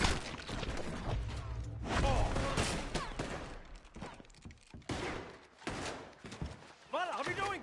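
Gunfire in the online western video game Red Dead Online, a fusillade of close, loud shots in bursts and scattered single cracks, with several voices shouting and talking between and over the shots.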